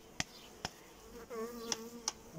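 Honeybees buzz at a hive in April, a soft, faint drone with a brief, clearer whine passing midway, punctuated by several sharp clicks and taps nearby, with no talking.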